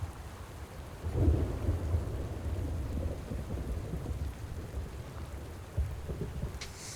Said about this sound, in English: We'll listen to the soothing sounds of rain.